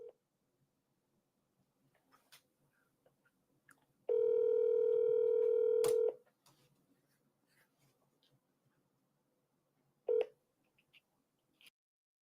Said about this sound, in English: We dial another one and then we'll see.